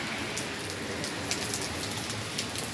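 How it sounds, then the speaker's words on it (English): Heavy rain pours down outdoors in a dense, steady hiss, with sharper drops pattering on a hard surface close by and no voices. "the rain is pouring down once again"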